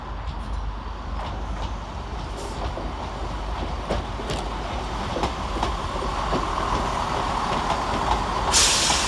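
A Northern Rail class 170 unit, 170-458, pulls into Sheffield station to terminate from Scarborough: a loud, steady diesel rumble and wheel noise under the platform roof, sharp clicks over rail joints and a hiss of air brakes at the end.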